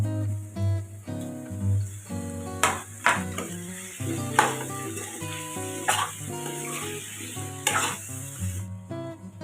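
Ginger and potatoes fry in a pan for a local chicken and black pepper dish, with a steady sizzle broken by repeated scraping stirs throughout.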